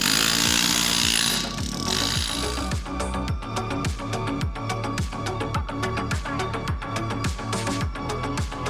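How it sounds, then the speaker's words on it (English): A power sander grinds loudly with a steady, rapid rhythmic chatter, running continuously at close range. "Still sanding away."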